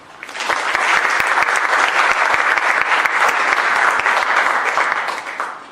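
Enthusiastic audience applause at a university round-table event, a loud, dense round of clapping that builds quickly, holds steady for several seconds and then tapers off.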